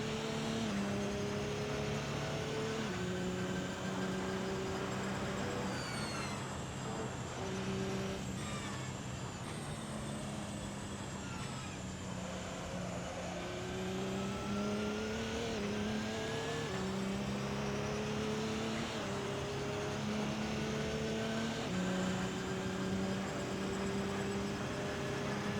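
Race car engine in Assetto Corsa, a steady loud drone climbing and dropping through gear changes over a long run, upshifts and braking downshifts clearly audible, alone without talk.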